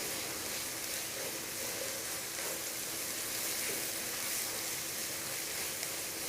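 Chili and onion frying in oil in a pan, a steady broadband sizzle and hiss running evenly throughout at moderate level, with no voices.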